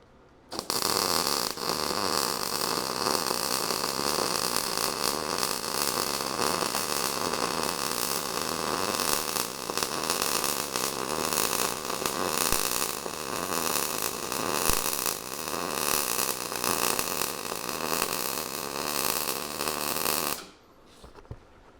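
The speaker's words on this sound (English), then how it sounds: "You gotta get real comfortable when you're welding." Welding on homemade tire chains, a steady, loud crackling buzz with a constant hiss running unbroken for about twenty seconds before cutting off abruptly near the end, with no voices.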